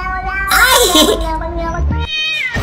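A cat yowls loudly in a drawn-out, wavering meow, followed by shorter meows, while people's voices and background chatter overlap close by.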